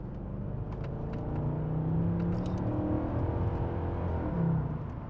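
A Mercedes-Benz C 63 AMG W204 naturally aspirated V8 drones and swells from inside the car after a downshift, a steady close rumble rising to a louder peak near the end.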